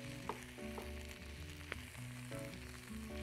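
Swiss chard sizzling and frying in a pan with leftover salmon bits, a steady crackling hiss with a few louder pops over about three seconds, no voices.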